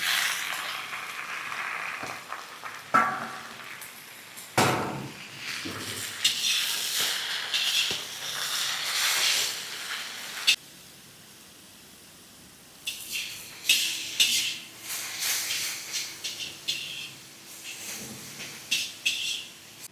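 Gongura leaves and green chillies sizzle in a hot pan, a steady hiss and crackle with a few sharp clatters and stirring noises, fading quieter midway before picking up again.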